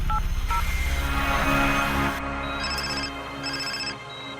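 Telephone keypad tones beep in quick succession, then a phone rings in short repeated bursts, heard clearly and close with nothing else over it.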